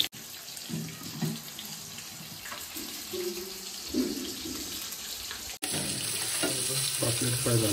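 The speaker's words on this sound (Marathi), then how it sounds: "पापलेट फ्राय झालेलं आहे ऑलमोस्ट." A pomfret fries in hot oil on a heated tawa pan with an even, continuous hiss and sizzle. Faint background voices sit low beneath it.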